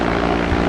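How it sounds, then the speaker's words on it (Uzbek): Bomber airplane launching in the Sea Battle 2 game, a brief loud propeller-engine drone, steady and close, with no voices. "Davay bitta bombardino samolyotni uchiramiz"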